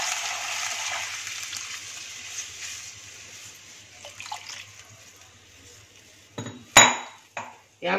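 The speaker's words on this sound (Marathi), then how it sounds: "यामध्ये आता आपण पाणी घालूया." Water is poured into a cooking pot of tomatoes sautéed over a low gas flame for a finger millet (nachni satwa) soup: a steady rushing pour at the start that fades, then a few sharp metallic clinks near the end.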